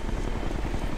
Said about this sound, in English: Hostiles have air support. Chopper.